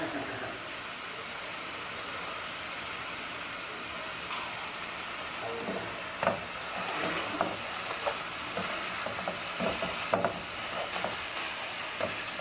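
Ground beef with fajita seasoning sizzles in a pan, a steady loud frying hiss with occasional stirring scrapes and clicks toward the end, no talking.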